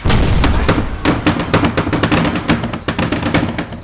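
Repeated loud booming blasts with sharp cracking transients, like a gunpowder-charged cannon firing a Christmas light bundle at a house, rattling in a dense irregular series close by.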